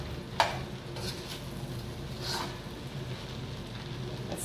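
A pot of bulgur rice being stirred, with faint scraping strokes and a soft sizzle beneath, one sharper clink near the start and quieter stirring sounds through the rest.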